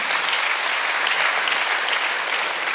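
A church congregation at a Sunday worship service claps together in a steady, dense wash of applause, loud and continuous throughout with no voices standing out.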